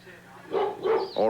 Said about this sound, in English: here's a ferocious-looking dog